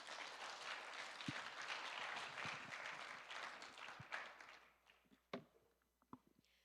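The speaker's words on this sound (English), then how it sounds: "Please give panel 2 a big round of applause." Audience applause at the closing ceremony of the 13th Jeju International Youth Forum in 2022: a dense, sustained crowd of clapping that thins out toward the end, leaving a few scattered isolated claps.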